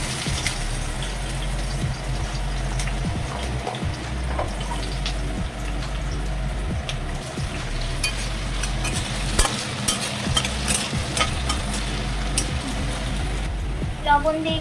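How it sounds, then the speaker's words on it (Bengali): Potatoes drop into hot oil in a home kitchen, with a continuous frying hiss and stirring scrapes over a low hum that runs throughout, close and fairly loud, with scattered clicks and no speech. "তারপরে আলুগুলোকে একটু ছেড়ে দেবো। তেলটা গরম হয়ে গেছে।"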